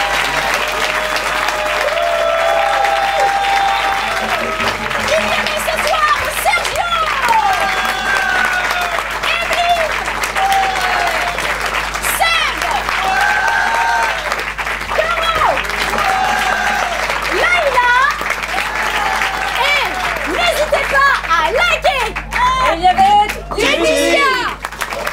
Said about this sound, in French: je demande d'applaudir Peter qui nous a accompagnés